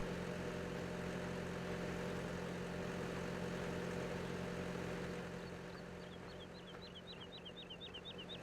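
A tractor engine idles in Farming Simulator 17, a steady low hum with a droning rumble, fairly faint, with a short series of light chirping tones toward the end.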